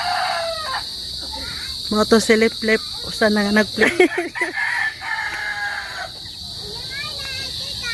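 Chickens at a house, a rooster crowing loudly nearby in several drawn-out calls while a person talks, with a constant high insect drone running underneath.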